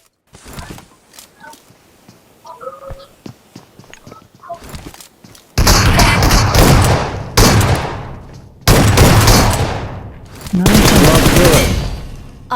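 Gunfire in the mobile game BGMI: scattered sharp single shots at first, then several long loud bursts of rapid automatic fire, close and dense, with game sounds between them.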